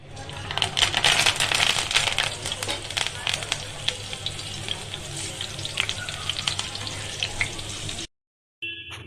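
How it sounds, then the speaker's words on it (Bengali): Curry leaves fry in hot oil with a loud, dense crackling sizzle and rapid spitting pops that run steadily for about eight seconds, then cut off abruptly. "ওর পরে কাঁটি শুদ্ধ কড়ি পাতাগুলো গরম তেলে ভেজে নিলাম"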